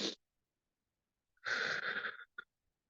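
Deep breaths are taken during a guided meditation, each one drawn in through the nose and let out through the mouth. A short exhale is followed by a pause, then a longer audible breath and a brief final puff, all close and clear.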